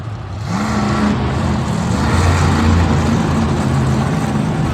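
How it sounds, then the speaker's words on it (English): A monster truck engine roars loud and low as it drives off during a stadium skills challenge, a sustained heavy revving that climbs and holds with crowd noise beneath, no speech. "As Cole drives off, a great attempt there for Cole"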